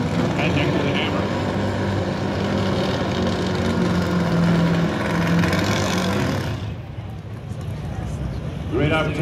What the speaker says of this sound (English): listen to the two very different power plants that run head-to-head in a pro stock motorcycle